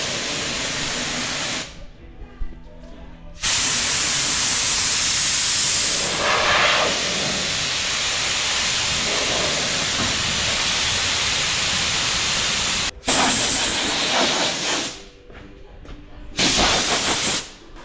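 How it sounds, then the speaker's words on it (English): A spray gun mists water over truck paintwork for wet sanding, producing a loud, steady hissing spray in long bursts broken by short pauses. "I'm gonna take the gun here and give her a quick little spritz."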